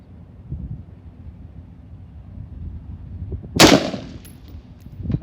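A single rifle shot cracks loudly at an open outdoor gun range out to 400 yards, a sharp blast with a fading tail, followed by a fainter distant report amid low wind and ambient noise.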